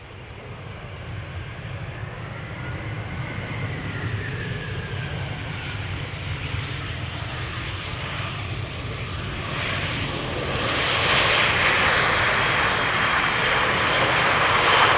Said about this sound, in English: This is Lufthansa flight 988, an A320 arriving from Frankfurt